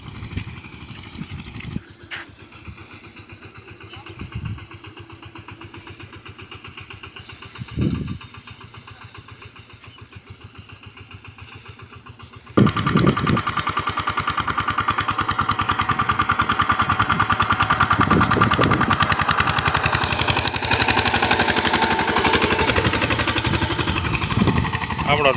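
A tractor engine idling at low rumble with a few bumps, then revving up sharply halfway through into a loud, steady, close running drone, with someone talking over it.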